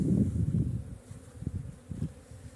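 Bees buzz around a small hive nucleus whose legs are smeared with oil against ants, a low continuous droning hum, close and steady, with a few louder passes as insects fly by.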